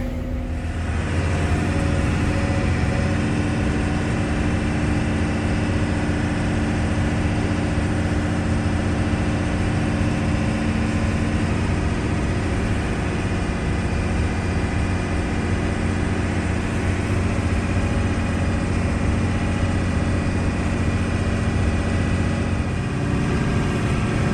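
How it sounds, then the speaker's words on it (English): A loader's engine idles on a winter day, heard from inside the cab as a loud, steady, unbroken low rumble throughout with no voices. "now I'm in the loader, and I don't want to get out of here"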